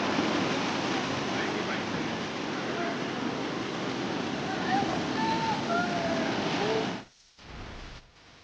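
A strong stream of water rushing steadily past rocks, loud and continuous broadband flow close by, cutting out abruptly near the end to a quieter murmur.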